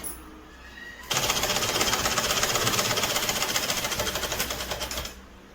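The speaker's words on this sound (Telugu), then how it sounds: "ఇప్పుడు నేను ఒక స్టిచ్ వేసేస్తున్నాను." An electric sewing machine stitches fabric for a birthday frock, running in a fast, steady mechanical rattle for about four seconds. It is close and loud, then stops abruptly, with quiet room sound before and after.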